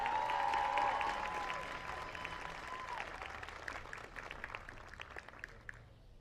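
Applause fills a hall at a high school commencement ceremony, a steady crowd clapping that gradually fades over several seconds, with a brief spoken announcement at the start.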